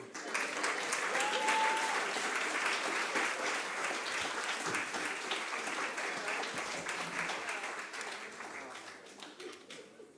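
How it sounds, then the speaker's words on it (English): Steady audience applause at a lecture event, many hands clapping together for about ten seconds, gradually thinning toward the end. "Give him some applause."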